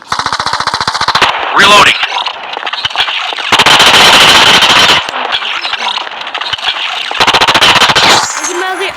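Bursts of rapid automatic gunfire from the Indus battle royale mobile game come in several loud, close volleys with short gaps between them, along with the crackle and clatter of in-game effects.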